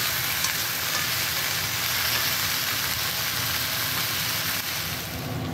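Oil sizzles and crackles steadily in a pan on a gas stove, a dense, continuous close frying hiss that holds evenly throughout with no talk.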